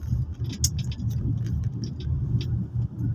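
A car drives along a road past slowed traffic near flyover construction, producing a continuous close rumble of engine and tyres with faint light ticking above it.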